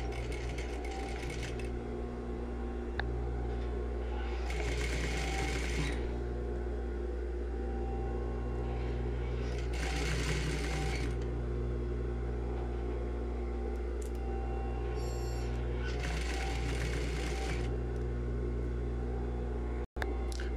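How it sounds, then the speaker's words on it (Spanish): A sewing machine stitches along the hem of a shirt collar in several bursts of a few seconds each, a close mechanical whir over a steady low hum, pausing between runs. "al ras del dobladillo, ahí voy a coser."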